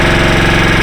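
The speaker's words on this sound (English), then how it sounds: "now let's start the bike so that you guys can see what it sounds like" Harley-Davidson Sportster S motorcycle with a 1250cc V-twin engine, a 2023 bike, idling loud and close after starting, with a steady pulsing low rumble.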